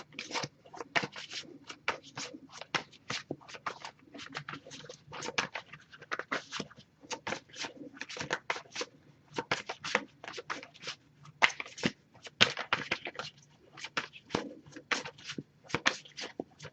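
A tarot card deck being shuffled by hand, a continuous run of quick, close riffling and patting bursts in an irregular rhythm with no talking.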